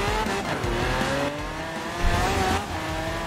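A Lamborghini Veneno races in Forza Horizon 4, its engine roaring loud and steady with a brief tire squeal and a surge of revs partway through.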